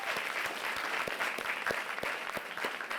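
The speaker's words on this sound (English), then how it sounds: "Let's give them a round of applause." A press conference audience applauds steadily for corporate sponsors, a dense, even clatter of clapping hands lasting throughout with no talk over it.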